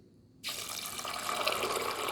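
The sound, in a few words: water pouring into cooking pot with gungo peas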